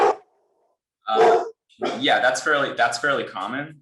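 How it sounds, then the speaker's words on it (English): A dog barks in short sharp bursts during a video call about financial markets and inflation, with a person speaking right after over the call. "Apologize for the dog, by the way."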